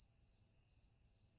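Crickets chirp steadily in the background, a high, even trill pulsing in regular bursts about every half second, faint and continuous with no talking.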